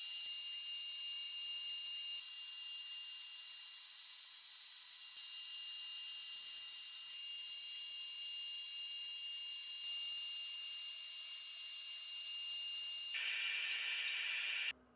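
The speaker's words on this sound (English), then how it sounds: "Now I'm switching back to my 90-degree V-bit to mill the chamfer." A CNC router milling a chamfer in maple with a 90-degree V-bit: a steady high-pitched whine with a hiss running throughout, close and continuous, cutting off abruptly at the end.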